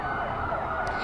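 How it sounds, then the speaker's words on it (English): Emergency vehicle sirens wail steadily as police officers arrive for a procession honoring a fallen officer at the Windermere Police Department, a loud continuous siren tone throughout. "And Marla, you can hear the sirens in the background."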